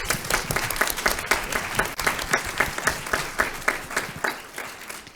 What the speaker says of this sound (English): Can we just please give another round of applause to everyone who presented?